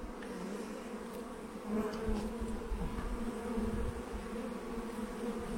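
Bees buzz steadily at close range, a continuous droning hum that swells slightly partway through.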